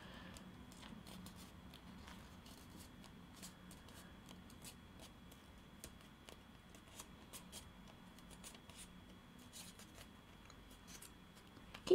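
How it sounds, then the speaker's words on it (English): A paper strip being rolled by hand into a paper rose, faint dry rustling and crinkling with small clicks scattered throughout, quiet and close. "Keep rolling until you've got to the bottom of the stem"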